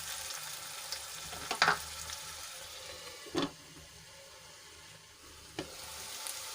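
Onion and tomato purée cooking in a covered pan gives a soft continuous sizzle and frying hiss, with a few brief clinks or knocks scattered through, quiet and close, no voices.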